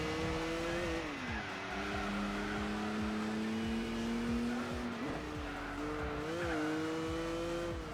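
Corvette in the Gran Turismo 4 racing game on PS2, a steady droning engine note shifting pitch through gear changes with tire squeal running underneath, loud and continuous throughout.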